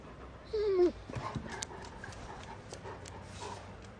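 A dog whimpers with a short rising whine near the start, followed by faint scuffling and rustling movement in a quiet room.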